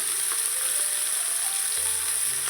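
Fish fries in a pan with a steady, moderately quiet sizzle and hiss that holds even for the whole span, with no voices.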